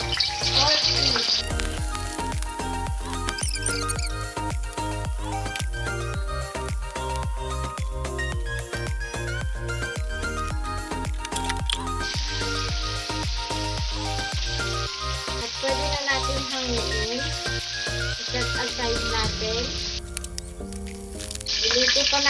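Pork ribs frying in hot oil in a wok give a steady, close sizzle lasting throughout, with music playing underneath.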